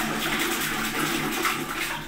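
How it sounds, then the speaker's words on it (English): An Exeloo public toilet flushes, a loud rushing gush of water close by that churns steadily for about two seconds with no voices over it. "Well, that's a pretty weird flush, isn't it?"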